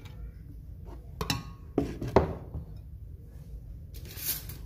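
A blender jug is picked up and set down on a kitchen counter while making a mango milkshake, giving a few sharp, close clinks and knocks of hard plastic or glass against the surface amid quiet pauses.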